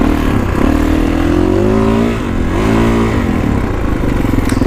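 A Kawasaki KX450X dirt bike engine roars loud and close while being ridden through high desert, its pitch rising and dipping steadily with no talk.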